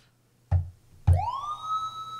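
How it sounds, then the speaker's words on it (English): Police siren effect fired from Engine DJ 3.0 software: two sharp hits, then a rising electronic wail that sweeps upward and holds, loud and close with no speech. "We've got the police siren"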